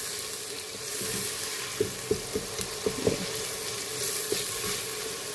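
Kashmiri red chili powder frying in a pan for a tarka daal, a steady sizzle with a handful of sharp stirring clicks and scrapes in the middle, close and moderately loud.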